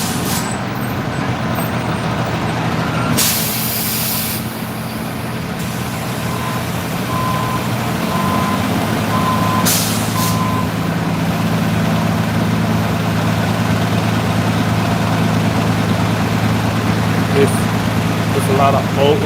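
A city bus idling with air brakes, its engine rumbling steadily while sharp bursts of hissing air release and intermittent beeps sound nearby, with a person talking over it.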